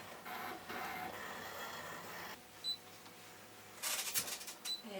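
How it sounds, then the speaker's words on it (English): Brother ScanNCut machine cutting fabric with its fabric blade: faint mechanical whirring and stepping motor runs, pausing between moves, with a few short clicks and higher-pitched bursts near the end, no voices. "So I'm going to go ahead and start and cut away. I do have my fabric blade in the machine."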